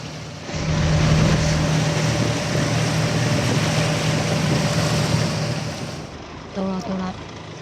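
Steady motorboat engine drone with wind and water rush on a sea crossing toward Sharp Island in Sai Kung, Hong Kong, loud and continuous before easing off near the end as a few short tones sound.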